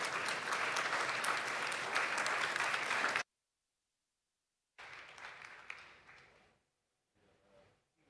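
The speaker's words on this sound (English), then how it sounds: "Another round of applause to Michael and the panel, please." Applause from an audience at the AfriLabs Annual Gathering 2021, with a loud burst of clapping that cuts off abruptly, followed after a silence by a quieter spell of clapping that fades away.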